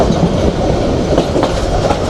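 The Chattala Express rolls along the rails toward an airport railway station, a loud, steady rumble with rhythmic clickety-clack from the wheels, close and continuous with no voices.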